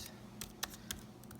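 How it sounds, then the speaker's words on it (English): Someone types slowly with one hand on a computer keyboard, producing a few sparse, soft key clicks spaced irregularly over a faint steady background hiss. "I'm typing with one hand right now today to do this video for you."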